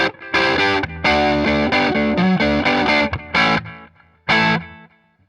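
Westcreek Explorer-style electric guitar played through the neck pickup with delay, loud strummed chords and ringing notes in bursts with short gaps, a final chord fading out, no talking.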